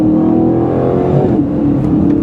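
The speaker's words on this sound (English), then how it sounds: "Just ripping through the 8-speed gearbox and roaring from the 4-liter twin-turbo V8." A 2025 Aston Martin Vantage with a 4-liter twin-turbo V8 and 8-speed gearbox roars loudly and steadily from close by, a continuous engine drone that holds without pause.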